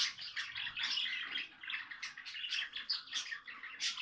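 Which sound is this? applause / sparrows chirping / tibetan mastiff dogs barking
sparrows chirping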